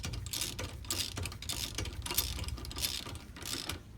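A lug wrench or ratchet clicks steadily while wheel nuts are snugged down on a 2011 Jeep Compass during a brake pad change, a close, rapid mechanical ratcheting that repeats in quick bursts.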